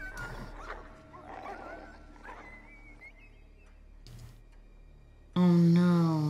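A dog in the film Signs gives faint, distant barks and whimpers amid quiet background sounds, followed at the end by a sudden loud burst of sound.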